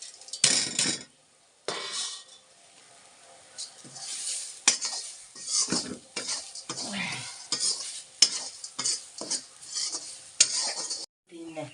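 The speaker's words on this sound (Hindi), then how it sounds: "मसाले भून दिए, और अब ये ब्लैक सोयाबीन, काले भट्ट को भी इसमें भून दिया" Black soybeans, wheat flour and spices are dry-roasted in a pan, heard as repeated scraping and rattling strokes of a spoon stirring the beans, coming in uneven bursts with short quiet gaps between.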